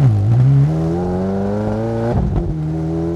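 A Ferrari 430 Scuderia GT3 race car pulls away in first gear, its engine note climbing smoothly in pitch, briefly dipping around a shift, then holding steady and loud.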